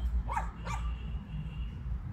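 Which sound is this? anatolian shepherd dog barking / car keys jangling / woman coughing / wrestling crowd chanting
anatolian shepherd dog barking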